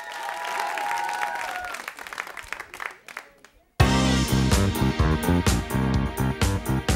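Studio audience applauding and cheering for a singer on a televised talent-show stage, loud crowd noise first, then cutting abruptly to louder thumping disco music with continued crowd energy.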